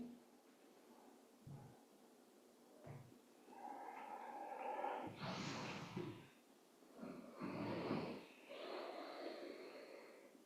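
Slow, audible breaths during a yoga bridge pose in a hatha flow class, long soft exhalations with a few snort-like nasal breaths, close and quiet against a hushed room.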